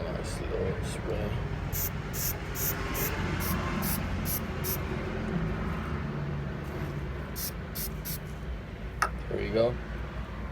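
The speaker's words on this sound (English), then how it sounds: "One last little spray." Rapid series of short aerosol spray bursts of filter oil onto a K&N reusable cold air intake filter, a dozen or so hissing puffs at close range, over background noise with a brief voice near the end.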